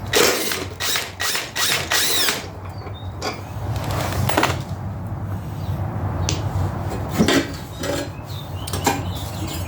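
An impact gun loosens the mower blades on an upturned Ariens/Husqvarna garden tractor deck, with several loud rattling bursts close up, then quieter hammering and mechanical clatter in a workshop.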